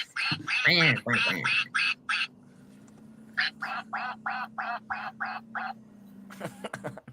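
Ducks quack in quick runs of loud, nasal calls, first clustered and overlapping, then a steady evenly spaced series, with a low hum running underneath.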